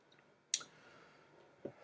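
A single sharp computer mouse click, faint and close, followed by a softer tap a moment later in a quiet room.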